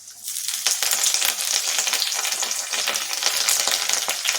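Garlic and curry leaves fry in oil in a pan, giving a loud, dense crackling sizzle that starts suddenly and keeps going throughout, close up and with no one speaking.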